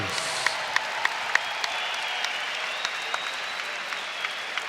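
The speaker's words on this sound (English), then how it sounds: "may we please have a round of applause for these 2 fighters" Steady applause from the crowd at a boxing match for two fighters after a five-round bout, a dense clapping wash with a few sharper claps poking out, moderately loud and continuous throughout.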